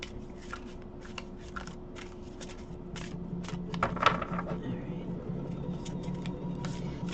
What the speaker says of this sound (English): I'm tired of shuffling.